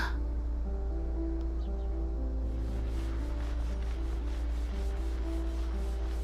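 Gentle rubbing and scrubbing of a dusty object in the cleaning game Undusted: Letters From The Past, soft repetitive strokes over a steady low ambient hum and background music, no talking.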